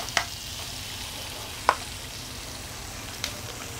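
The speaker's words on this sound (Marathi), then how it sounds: "हे आपल्याला थोडे लाल करून घ्यायचे आहे कांदे।" Chopped onions fry in oil in a pan, browning for a Marathi-style misal, with an even, close hiss and a few isolated sharp clicks spaced apart.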